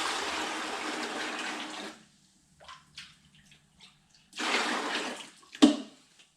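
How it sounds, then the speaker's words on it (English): Brine solution poured from a container into a clean ice chest, a steady splashing gush for about two seconds, then a few small drips and knocks before a second shorter pour and a sharp thump. "We'll pour it into a real clean ice chest."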